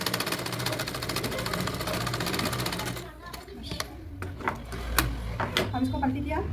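A sewing machine runs a steady fast stitch along the hook strip of a blouse for about three seconds, then stops, followed by scattered handling clicks and rustles while someone talks.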